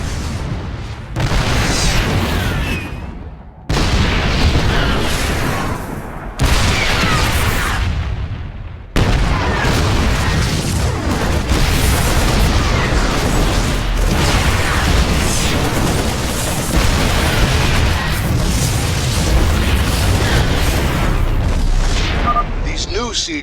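Siege tanks in siege mode fire heavy booming shells at Protoss cannons in StarCraft II, the loud blasts and explosions repeating in bursts with short pauses, layered with game noise and speech.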